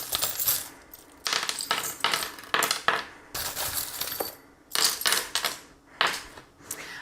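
Small metal divination charms tossed down and clattering together in several bright, jingling bursts with short quiet gaps between, close and loud, like coins spilling onto a surface.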